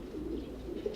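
A black pigeon gives a brief, soft, low coo nearby, faint and with no other sounds over it.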